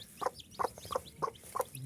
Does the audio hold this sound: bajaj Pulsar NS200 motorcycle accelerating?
no